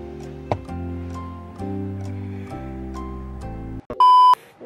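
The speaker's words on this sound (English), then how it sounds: "Our alarm just went off" A phone alarm going off early in the morning: an electronic melody of repeating tones plays for about four seconds, then a loud sustained beep cuts in near the end, close and clear with no talking.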